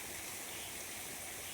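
A faint, steady rush of a flowing stream below a waterfall, a constant broadband hiss with no pauses or voices.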